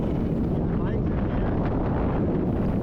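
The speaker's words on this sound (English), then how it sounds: "right there the wind was just howling over the top of that peak" Steady wind roaring over an exposed desert peak at Sand Hollow, a dense continuous rush with low buffeting against the microphone, loud and unbroken throughout.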